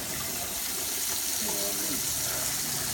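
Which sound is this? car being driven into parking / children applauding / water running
water running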